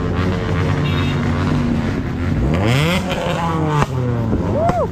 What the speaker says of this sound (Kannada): ಬಲೇನೋ ನೋಡಿ, ಸುಜುಕಿ ಬಲೇನೋ. ಎಕ್ಸಾಸ್ಟ್ ಏನು ಗುರೋದ್ರದ್ದು.